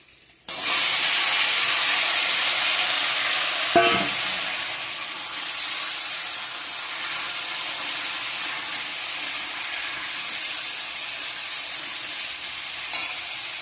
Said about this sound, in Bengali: এখন সবজিগুলো দিয়ে দেব